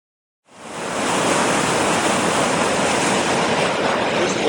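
A small waterfall beside the Beartooth Highway roars close and loud, a dense, steady rush of falling water that starts abruptly and holds constant, with no voices over it.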